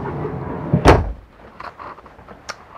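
An RV hamper door inside a 2013 Tiffin Phaeton 42LH motorhome swinging shut with a single solid thump at close range, followed by a couple of faint knocks.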